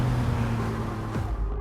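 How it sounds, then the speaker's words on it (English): Big 6.5-litre V12 car engine with cylinder deactivation idling with the roof off, a steady, fairly loud low rumble with a brief swell near the end, no talk. "so you can hear that engine"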